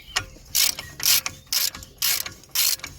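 A ratchet tightens a 27mm strut bolt on a Seat Altea front strut mount, giving five or six crisp bursts of rapid clicking in an even back-and-forth rhythm, close and clear with no talking.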